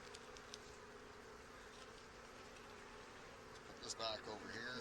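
Honey bees buzz steadily at close range during an early-season hive inspection, a continuous insect hum with a brief louder flurry near the end.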